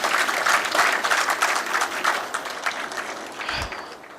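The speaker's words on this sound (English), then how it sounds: "may we have a big round of applause, please" A conference audience applauds at an inauguration ceremony: dense, steady crowd clapping fills the room at fairly high level, easing slightly toward the end, with no voices over it.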